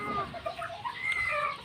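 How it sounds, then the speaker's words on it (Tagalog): Fighting roosters kept as gamecocks cluck and call close by in a short burst of overlapping throaty chatter from several birds, with no talk over them. "Marami po rito siyang manok"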